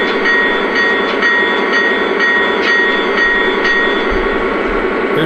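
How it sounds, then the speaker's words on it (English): A Lionel Santa Fe Dash-8 model locomotive bell rings in quick, regular strikes over a steady engine hum, bright and close, with no voices. "Here's the bell."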